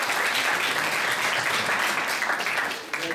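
An audience at a debate on European migration claps steadily in a dense, even wash of applause that stays full for about three seconds before tapering slightly.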